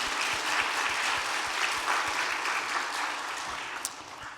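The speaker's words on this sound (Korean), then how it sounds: "이분들에게 박수 한번 하십시오" Church congregation applauding at a 50th-anniversary revival service, a steady dense wash of many hands clapping that holds evenly throughout, with no talking over it.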